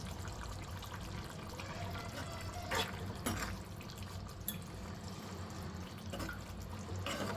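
Water splashing and trickling as a child plays with it in a home kitchen, a steady close wash with a few brief louder splashes, no talking.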